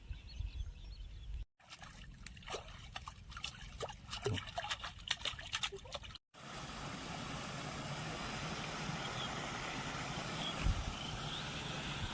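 Canal water runs through a sluice under a road toward farm fields. It is heard as a continuous trickling and rushing wash in the open air with a low rumble beneath it and brief breaks in the sound.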